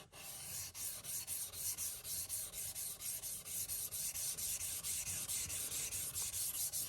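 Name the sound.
knife strokes on a sharpening stone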